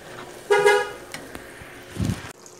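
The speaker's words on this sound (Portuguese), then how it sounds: "Acho que até saiu a buzina aí da perua no vídeo." A school van parked outside gives a short, loud horn toot, heard from a kitchen, followed by a second muffled burst of engine or horn noise about a second and a half later.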